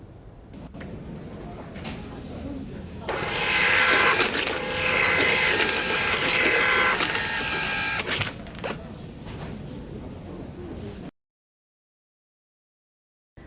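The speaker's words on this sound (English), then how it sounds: "Consumer might have the belief that this printer can print at above 250 mm per second" Epson POS receipt printer at work, a whirring mechanical feed that grows to a loud buzzing print run for several seconds, then eases off and stops, with faint background noise and no talk.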